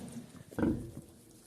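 A short, loud squeal bursts out once over a quiet background, newborn piglets shrieking briefly before it fades.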